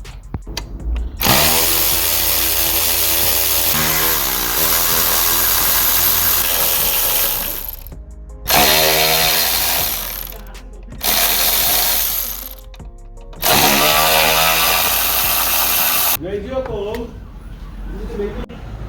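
A power tool loosens the engine mounting Torx bolts on a 2010 Vauxhall Corsa during a water pump replacement. A long, loud, whining run is followed by three shorter bursts, with brief pauses between them.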